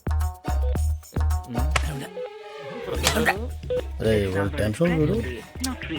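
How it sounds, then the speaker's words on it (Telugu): A series of short electronic phone beeps sounds in quick succession as a call fails to connect, followed by a person talking. "ఈ ఫోన్ ఒకటి కలుస్తలేదు"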